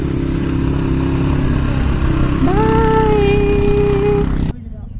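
A motorcycle engine idles and revs at a mountain tourist spot in Solang Valley near Manali, a steady close drone with a rising whine partway through, before the sound cuts off abruptly near the end.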